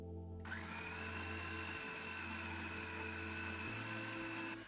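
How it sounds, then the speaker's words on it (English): A food processor whirs steadily at high speed, blending three kinds of pepper with garlic and tomato paste for harissa, a loud continuous motor drone that dips slightly in pitch twice as the load shifts. "So it's time to throw it all in the food processor."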